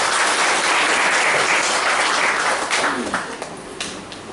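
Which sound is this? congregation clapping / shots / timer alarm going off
congregation clapping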